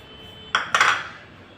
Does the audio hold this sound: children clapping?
no